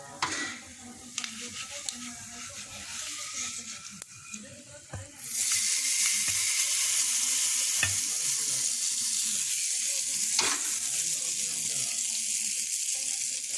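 Hot tempering with curry leaves is poured into turmeric water for a sweet potato pickle, setting off a sudden loud sizzling hiss partway through that keeps crackling steadily until the end.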